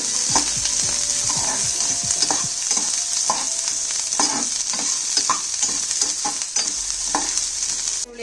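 Onions frying in a pan until reddish-brown, loud continuous sizzling close up with frequent rhythmic scraping stirs throughout.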